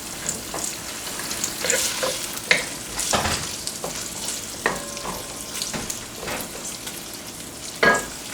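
Oil and flour roux browning slowly over medium heat for a Louisiana gumbo, a soft steady sizzle broken by scattered scraping stirs and a few sharper clinks, close and moderately quiet with no talking.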